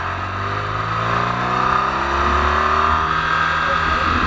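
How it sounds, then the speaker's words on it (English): A car comes up a mountain road, its engine note climbing as it draws near, heard under the hum of touring motorcycles with riders talking. "Car coming, car coming."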